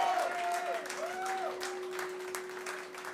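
Audience applause at the final of the Plattsounds band contest 2023, a steady wash of clapping from a crowd with a held electronic tone and sliding pitched sounds over it, fairly quiet throughout.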